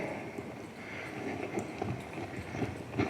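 A young futurity horse doing cattle work at a ranch in Weatherford, its hoofbeats coming faintly in an irregular clip-clop over a quiet background.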